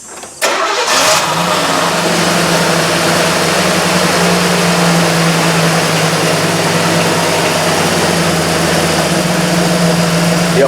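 A Chevrolet Camaro IROC-Z engine cranks and fires up, then settles into a loud, steady idle close by, with a low continuous rumble and no talking.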